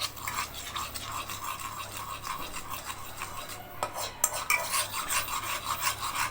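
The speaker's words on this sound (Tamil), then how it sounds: "இந்த எண்ணெயில் எடுத்து கலக்கி விட்டுக்கணும்" A spoon scrapes and stirs salt, turmeric and pepper into oil in a pan with a gritty, rasping rhythm, fairly faint, with a few sharper clinks near the end.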